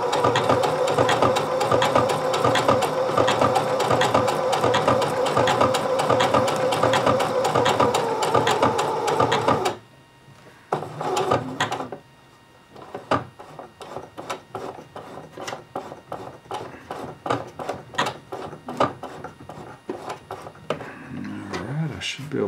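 A home sewing machine runs a zigzag stitch on a pair of shorts, width 5 and length 2.5, buzzing steadily and loudly for several seconds, then stopping. Scattered clicks and handling sounds follow, with a person talking over them.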